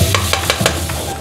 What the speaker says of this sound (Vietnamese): Đầu tiên là mình sẽ phi xả và tỏi cho nó thơm.